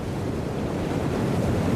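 Storm-tossed ocean waves on the open sea, a steady broad roar of surf and wind with no distinct breaks, loud and continuous throughout.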